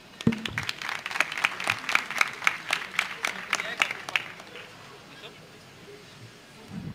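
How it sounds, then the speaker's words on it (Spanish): Audience applause at a cloud-development tech session, about four seconds of moderately loud, clearly separated claps from a smallish crowd that then fade into quiet room noise. "Un aplauso, por favor."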